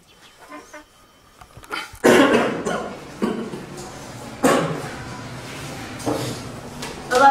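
A man with tuberculosis, whose cough now brings up blood, lets out a series of about five harsh, heavy coughs, close and loud, spaced a second or so apart after a quiet stretch with faint sounds.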